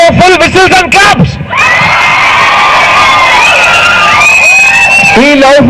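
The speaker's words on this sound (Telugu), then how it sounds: "వీడి కోసం ఫుల్ విసిల్స్ అండ్ క్లాప్స్" An audience cheers loudly, with shrill whistles and shouting running through most of the moment and clapping likely mixed in, at a celebration for a wedding film release.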